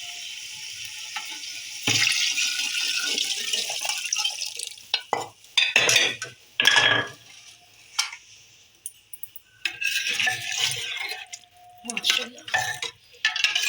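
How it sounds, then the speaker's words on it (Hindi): Chicken stock (yakhni) is poured into a cooking pot of chicken feet curry, a steady liquid pour followed by splashes, stirring scrapes and clinks in short, irregular bursts, fairly close. "अब इसके अंदर जो यखनी मैंने निकाली थी वो ऐड करूँगी"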